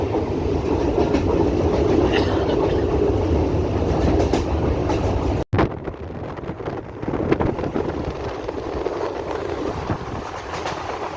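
A Howrah–Bardhaman super local train runs on its rails with a loud, steady rumble and wind noise, broken by a momentary dropout midway before the rolling resumes.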